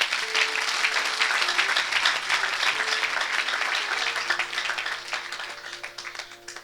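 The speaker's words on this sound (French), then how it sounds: "Est-ce qu'on peut acclamer pour Jésus?" A church congregation applauding and cheering for Jesus during a deliverance service, a sustained wash of clapping from a large crowd that gradually thins and fades toward the end, with organ-like held tones beneath.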